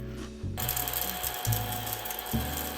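A battery-powered Godzilla toy vacuum cleaner runs with a steady mechanical whir and rattle, and its low motor tone jumps in level several times as it is pushed along.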